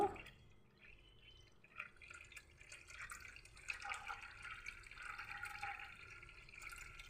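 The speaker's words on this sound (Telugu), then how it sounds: "ఇప్పుడు ఈరోజు రైస్ కడిగిన నీరు కూడా ఇదిగో వేసేస్తున్నాను" Water left from washing rice is poured into a pot, making a faint, close trickle and drip that builds gently into a steady flow of liquid.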